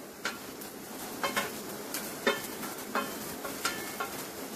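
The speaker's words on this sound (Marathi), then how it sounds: "आता पॅन व्यवस्थित तापलेला आहे, त्याच्यात आपण हे मशरूमचे तुकडे घालूया" Mushroom pieces sizzle in a well-heated pan over high gas, a soft steady hiss broken by repeated clicks and scrapes of stirring against the pan, with no voices.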